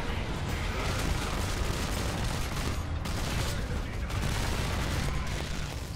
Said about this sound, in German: Man schießt so schnell so viele Geschosse raus.